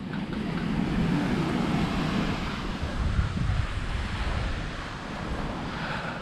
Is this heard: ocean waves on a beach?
yes